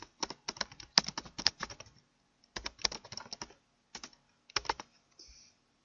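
Quick bursts of keystrokes on a computer keyboard type a name for a query in Microsoft Access, crisp and close, in three short runs separated by pauses, with no voices.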